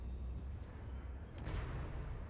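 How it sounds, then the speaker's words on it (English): A ship crashes in the video game Space Engineers with a deep, rumbling explosion. The low roar holds steady before a brief burst swells partway through, heard distant and muffled. "That sounds like an explosion to me"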